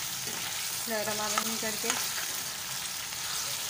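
Beef with ginger and garlic frying in a karahi while being stirred, a steady close sizzle throughout with scraping stir strokes, and someone speaks briefly over it.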